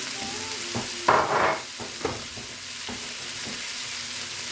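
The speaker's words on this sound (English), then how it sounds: "You just want to get that kind of frying a little bit and getting some love." Onions and garlic frying in oil for chilli con carne crackle and sizzle softly, with a few stirring scrapes and clatters in a kitchen, and no talking.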